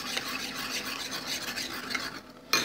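Pancake batter is stirred in a bowl with a continuous wet, rasping swish, close up and steady, ending in a brief pause and a sharper scrape.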